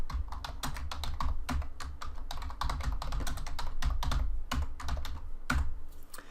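Someone types an address on a computer keyboard, with a rapid, uneven run of crisp key clicks and taps close by and no talk.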